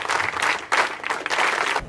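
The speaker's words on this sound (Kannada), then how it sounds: "ಜೋರಾದ ಚಪ್ಪಾಳೆ" Loud clapping from students at an NSS camp held at an agricultural training centre near Gangavathi, coming in strong rhythmic bursts of group clapping with short dips between them.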